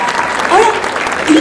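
Audience applause at a live children's show event, brief steady clapping with a voice calling out over it.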